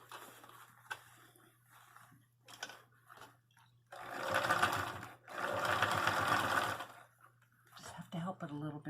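A sewing machine stitches through several thick fabric layers of a vintage trailer A/C cover skirt, running in two sustained loud bursts with quieter pauses between, over a steady low hum.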